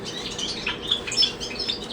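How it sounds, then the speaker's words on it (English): Many pet birds chirp and tweet together in a sunroom, producing a busy, bright chorus of short overlapping calls at moderate loudness with no talk. "And there's lots of birds in here,"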